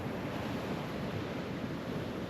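Sea waves washing onto the shore, a steady, full roar of surf with wind noise on the microphone, continuous and close, with no voices.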